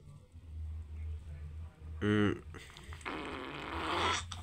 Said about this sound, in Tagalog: Ang lakas ng utot.